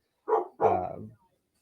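A young Great Pyrenees barks twice in quick succession at close range, a short bark followed by a longer, fuller one, with silence around them.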